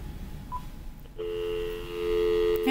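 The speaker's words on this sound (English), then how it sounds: "Hey, I've got a dial tone." A magicJack phone line gives a steady, continuous dial tone that starts abruptly after a moment of faint room noise and holds unbroken and clear to the end, with no voices over it.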